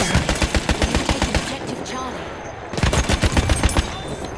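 Rapid automatic weapon bursts in the Battlefield 1 video game, loud dense rattling volleys that stop briefly midway, then resume in another fast burst, close and punchy.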